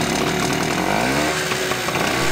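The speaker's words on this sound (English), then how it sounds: "This is a traditional gas generator, and getting it to work can sometimes be a hassle." A traditional gas-powered generator roars loudly at close range, a dense, buzzy, steady engine drone with a rasping mechanical edge, heard on its own without any talk.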